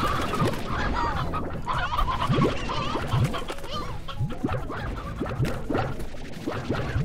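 Chickens in the farming game Slime Rancher cluck and scratch continuously, a busy overlapping patter of short clucks and scuffs at moderate volume with no voices.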